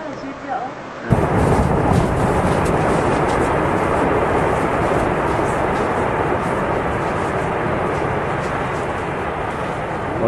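Calving glacier ice collapses with a sudden deep roar that swells into a sustained loud rumble and wash of the resulting tsunami wave, with faint voices beneath.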